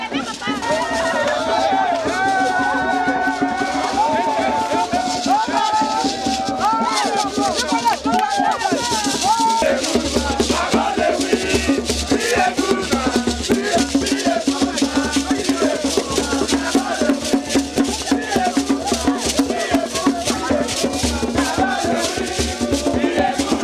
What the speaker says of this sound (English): staff of the Ecological Fund office and their friends from other offices started singing, clapping and dancing